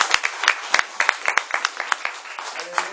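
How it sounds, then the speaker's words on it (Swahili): Church congregation applauding at a Swahili-language worship service, a dense run of irregular claps and cheers that stays fairly steady for a few seconds, close and lively, with voices mixed into the crowd noise. "Na wewe jipigie makofi"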